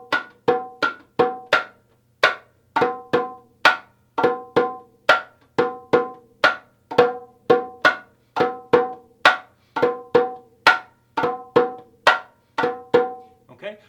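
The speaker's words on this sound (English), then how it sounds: "the okonkolo starts to play what is called Floreos, or again, improvisations within the pattern" Okonkolo batá drum playing a free, syncopated floreo improvisation within its pattern, a steady stream of sharp, close hand strokes in clustered groups, alone and fairly loud.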